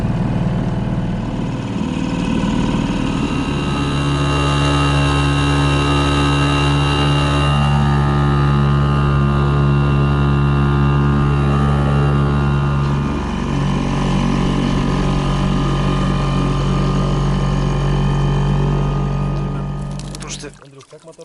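A 9.9 horsepower outboard boat motor drones steadily and loudly throughout on a river trip through the taiga, with its pitch dropping partway through, then fading at the end.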